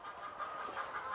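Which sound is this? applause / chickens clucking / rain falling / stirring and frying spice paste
chickens clucking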